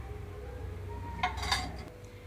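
A metal pan set down on a stovetop while making bottle gourd curd curry: two quick, faint clinks of metal on metal over a low hum in a quiet kitchen.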